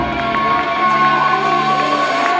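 An audience at a Musclemania bodybuilding show in Paris cheers and shouts in a loud, continuous crowd roar with tonal whoops and a sustained hum running beneath.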